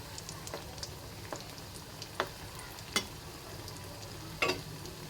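Khaja pastries deep-frying in oil over a low flame, a faint steady bubbling hiss with a few sharp pops and crackles scattered throughout, nearby and without voices.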